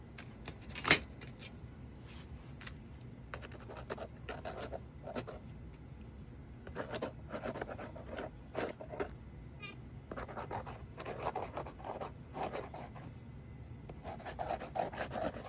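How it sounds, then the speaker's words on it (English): A watercolor pencil crayon scratches and rubs across paper in bursts of short, quiet strokes, some firmer and louder, with steady brief pauses between them and no talking. "This is my watercolor pencil crayon."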